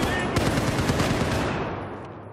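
Rapid automatic gunfire from an Xbox One video game rattles in a dense, loud, continuous burst that tapers off slightly toward the end.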